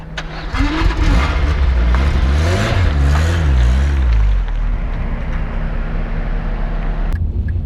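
A car engine cranks and catches, then revs unevenly with rising and falling tones before settling into a steady idle, loud and close, with brief voices in the background.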